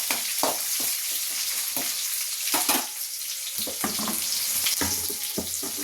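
Onion frying in a pan with green chillies, a loud dense sizzle broken by repeated scraping stirs and bursts of spattering, close and continuous.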